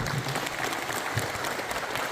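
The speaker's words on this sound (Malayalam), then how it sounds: "അദ്ദേഹത്തിന് ഒരു വലിയ കയ്യടി നൽകുന്നു." A crowd claps at a health club's 100-day celebration, a steady, fairly quiet patter of many hands with no talk over it.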